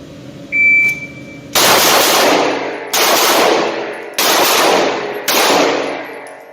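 Four loud 9mm shots from a micro compact carry pistol ring out in a steady, evenly spaced rhythm about a second apart, each with a sharp crack and a long echoing decay, preceded by a brief electronic beep.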